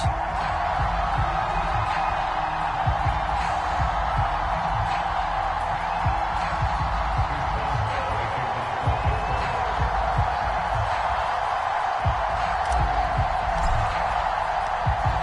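Sold-out stadium crowd in Madden 22 as the Buffalo Bills play the Pittsburgh Steelers, a steady dense roar of cheering and whoops heard close and loud throughout, with no pause or break.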